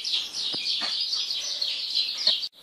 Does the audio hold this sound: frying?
no